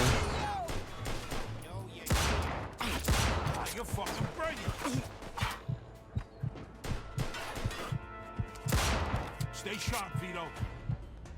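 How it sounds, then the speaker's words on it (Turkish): Gunfire in the video game Mafia 2 Definitive Edition during a raid on a venue: repeated sharp shots and bursts spread through the stretch, some clustered and some isolated, mixed with game music and effects. "Bununla uzun menzil niye sıkıyorum ben ya?"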